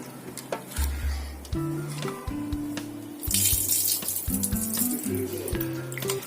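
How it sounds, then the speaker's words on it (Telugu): Shrimp are washed by hand in a bowl of water with turmeric, running tap water splashing with a steady rush while the shrimp are swirled in the water amid faint clunks and tonal hums of kitchen equipment. "నీళ్ళలోకి రొయ్యలు తీసుకొని దాంట్లో కొంచెం కలుపు పసుపు వేసుకొని బాగా కలుపుకోవాలి కడిగేసుకోవాలి"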